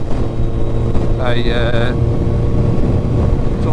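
A Kawasaki ZZR1400 (ZX-14R) motorcycle engine runs smoothly while being ridden near Devils Bridge, a steady loud engine and wind roar with a brief rising whine, as a rider speaks over it.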